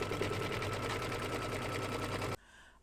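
A sewing machine stitching a mug rug, running steadily with a fast, even mechanical chatter for about two seconds before stopping abruptly, leaving faint background noise.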